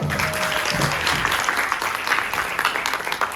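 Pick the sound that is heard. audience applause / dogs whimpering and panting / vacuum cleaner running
audience applause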